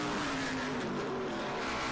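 Vintage race cars pass on the track at Virginia International Raceway (VIR) in an SVRA SpeedTour event, a steady engine roar from several cars that rises and shifts in pitch as they sweep by at a middle distance.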